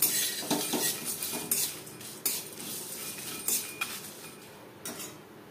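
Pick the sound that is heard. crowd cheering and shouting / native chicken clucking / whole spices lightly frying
whole spices lightly frying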